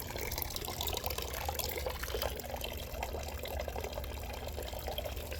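Melted snow water dripping and flowing outdoors, a steady, dense splashing trickle that runs continuously at moderate level, with no talking over it.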